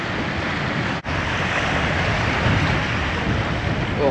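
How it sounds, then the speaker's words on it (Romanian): Sea waves on an Ibiza beach in October, heard from inside a house as a steady broadband wash of surf with a wind-like hiss, continuous and fairly even, with one very brief dropout near the start. "Auzim valurile din casă."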